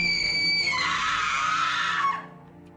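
A girl lets out a long, high-pitched scream in a haunted pirate horror tale, loud and sustained for about two seconds over a low background rumble before cutting off abruptly.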